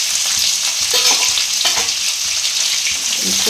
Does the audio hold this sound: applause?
no